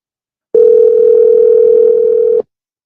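Telephone dial tone heard while calling someone, a single loud steady tone that starts abruptly, holds for about two seconds and stops cleanly, with silence before and after.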